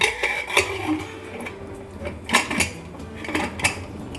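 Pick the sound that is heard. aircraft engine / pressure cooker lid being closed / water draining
pressure cooker lid being closed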